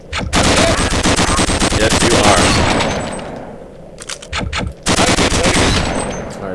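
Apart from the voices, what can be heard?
assault rifle gunfire in the video game Gunman Chronicles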